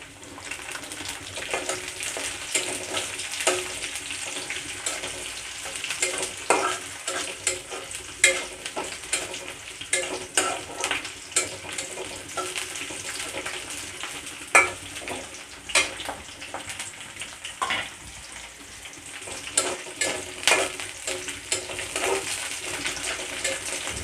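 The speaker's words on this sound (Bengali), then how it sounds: "পেঁয়াজ এবং রসুনটা ভাজা ভাজা হয়ে গেছে।" Onion, garlic and green chillies frying in a pan while being stirred, a continuous crackling sizzle broken by frequent scraping and clinking spoon strokes, close and steady with no speech.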